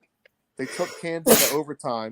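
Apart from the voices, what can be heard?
sneeze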